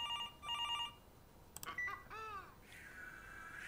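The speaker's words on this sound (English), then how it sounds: "And now the phone's ringing." Phone ringing in the video game Willowbrooke Post: two short bursts of electronic trilling rings, followed by a few bird-like caws and chirps and a sustained synthetic tone, all faint.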